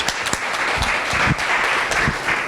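Audience at an alumni panel event giving a round of applause: dense, steady clapping from many hands in a room, moderately loud and continuous for the whole stretch, with no talking over it.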